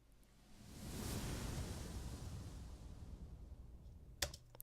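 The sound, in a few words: whoosh effect from Native Instruments Rise and Hit library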